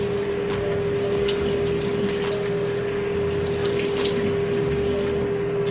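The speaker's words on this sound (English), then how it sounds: "rinse my face with cold water" Cold water runs from a sink tap while a face is rinsed, giving a continuous splashing hiss over a steady, constant mechanical hum.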